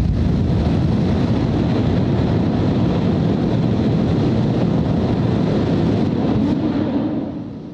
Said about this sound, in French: la société a fait monter les enchères en allumant trois Raptors sur le prototype Super Heavy pendant environ 5